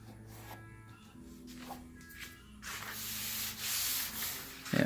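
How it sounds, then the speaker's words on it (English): Primer being sanded on the hood of a 1958 MGA under restoration: steady soft rubbing and scraping strokes that grow louder and broader toward the end, close up, with no talk. "this is an example of why I want to wet sand"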